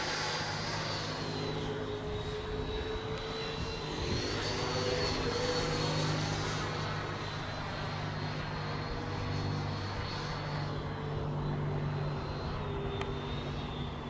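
A Freewing MiG-29 Fulcrum RC model jet with electric ducted fans flies at high power through vertical maneuvers, a steady loud whine and rushing roar continuing throughout outdoors, rising and falling slightly as it passes.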